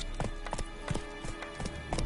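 Roach the horse trotting in The Witcher video game, producing steady rhythmic clip-clop hoofbeats, fairly close and moderately quiet, with no talk.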